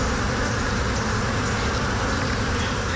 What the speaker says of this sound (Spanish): En este colmenar hay cerca de 2 millones de abejas.